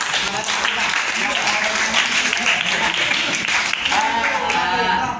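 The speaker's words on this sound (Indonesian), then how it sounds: "Ya, tepuk tangan lagi." A crowd claps steadily for several seconds, a dense sustained applause filling the room.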